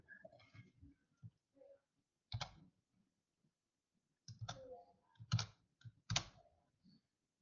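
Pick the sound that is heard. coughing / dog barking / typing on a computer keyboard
typing on a computer keyboard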